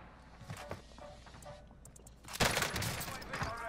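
Gunfire from a weapon in Call of Duty Warzone during a Vanguard event, with quick shots and footsteps that build into a loud, dense burst of rapid fire partway through.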